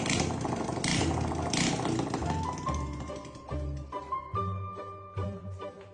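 A Honda Wave 125 motorcycle under restoration sputters through a start attempt, giving short uneven bursts of engine noise and revving that fade in and out, close and fairly quiet.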